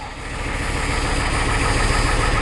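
A 1985 6.9 diesel engine idles after a cold start, a steady, loud, continuous rumbling clatter with constant vibration and no voices.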